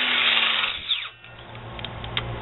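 A flap disc grinder works on plastic and metal on a mini chopper bicycle being rebuilt, giving a steady whirring grind that dips briefly mid-clip and then resumes with small scraping bursts.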